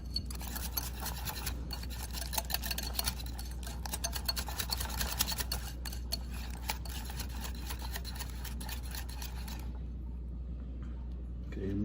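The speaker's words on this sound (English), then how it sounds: "We'll whisk that together." A whisk scrapes rapidly and continuously through a sauce mixture in a bowl, clicking against the sides for about ten seconds over a low steady hum.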